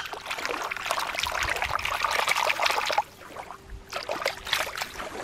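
A squid toy is put back into the water, giving a continuous trickling, splashing sound that drops off briefly and then resumes more softly, with no talking.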